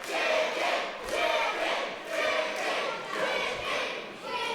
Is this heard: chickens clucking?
no